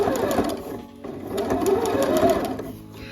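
A sewing machine stitches around a neckband with a steady mechanical whir and needle chatter, its pace rising and falling briefly through a short run.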